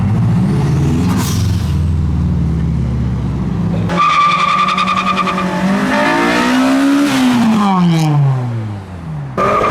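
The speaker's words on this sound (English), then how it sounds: "The recovery truck has come to retrieve the Mark V Golf." A heavy recovery truck rolls in at a car meet to collect a broken-down Mark V Volkswagen Golf, its loud engine and air-brake hiss dominating, with a rising drive tone and a sharp squeal near the end.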